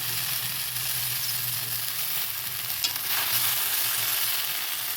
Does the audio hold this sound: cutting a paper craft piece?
no